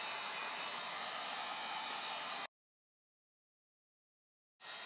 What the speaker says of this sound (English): So I'm going to turn on my heat gun. I've got it on medium.